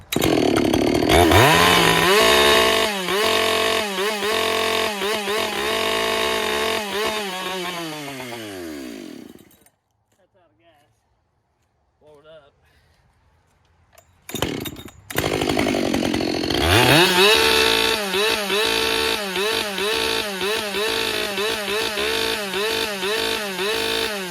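A ported Husqvarna 572 or Stihl 400c chainsaw roars at high revs, winds down and cuts out, then after a short pause restarts and revs loudly again.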